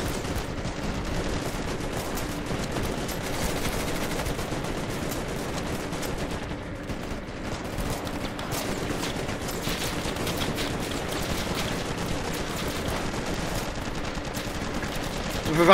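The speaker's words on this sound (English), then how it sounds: "The machine gun!" Dense, continuous automatic gunfire from a machine gun in the video game Ravenfield, a steady unbroken rattle of shots filling the whole stretch without pause.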